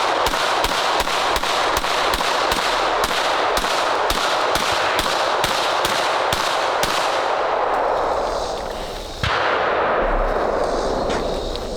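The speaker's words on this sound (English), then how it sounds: "So I think we should shoot them, see which one actually gives us the best felt recoil" Rapid volleys of gunshots from compensated carry pistols at a shooting range, a dense string of sharp, loud cracks fired in quick succession for about seven seconds, then a pause, a single shot and ringing echoes.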